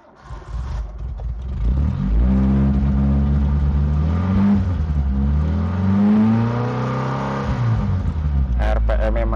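A used car's engine revs up and holds high for several seconds, its pitch climbing and falling with clear harmonic sweeps before dropping back toward idle, loud and close.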